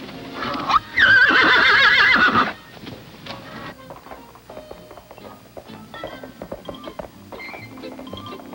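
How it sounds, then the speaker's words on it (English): A white horse gives a loud whinny up close for a couple of seconds, followed by quieter snorts, shuffling and soft clip-clopping. "And my trusty wild white horse."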